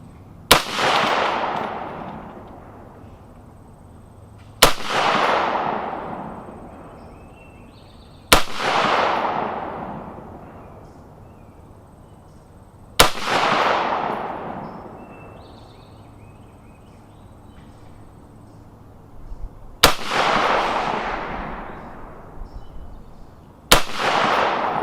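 Six sharp, loud rifle shots from a JC Arms fixed-magazine AR fired at an outdoor range, spaced several seconds apart, each crack trailing off in a long echoing decay.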